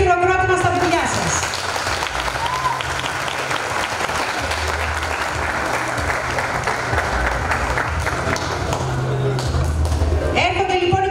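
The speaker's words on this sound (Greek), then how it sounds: "Ένα χειροκρότημα στα παιδιά σας" Steady, dense applause for children at a dance school recital, loud and sustained for about ten seconds, with a voice speaking briefly at the start and end.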